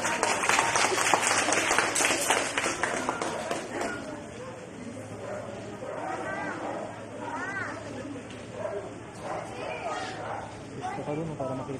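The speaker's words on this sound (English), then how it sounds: "Let us give her a round of applause." Audience applause at a kindergarten moving-up ceremony for a five-year-old honor pupil, strongest over the first few seconds and then fading to a softer patter while a voice talks over it.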